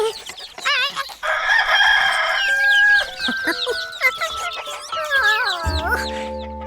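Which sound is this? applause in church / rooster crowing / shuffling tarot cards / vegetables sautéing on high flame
rooster crowing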